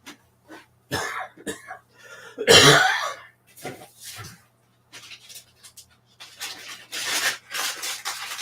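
A single person coughs and clears their throat in short, close, loud bursts separated by pauses, with one harsher cough in the middle and a run of smaller coughs toward the end.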